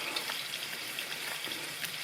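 Spiced beef chapli patty frying in a hot pan, giving a steady, close hiss of sizzling oil with faint crackles throughout and no talking.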